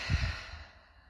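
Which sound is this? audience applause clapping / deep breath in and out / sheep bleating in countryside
deep breath in and out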